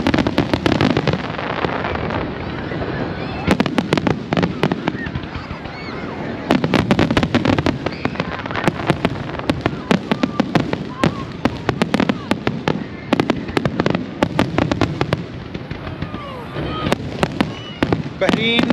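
A fireworks show for Bahrain's 51st National Day fills the air with nonstop cracks, booms and sharp pops, loud and continuous, layered over a busy crowd with people talking nearby.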